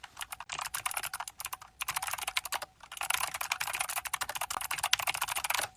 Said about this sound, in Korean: 제가 키보드를 칠 때 타자를 칠 때 해커가 된 거 같나요?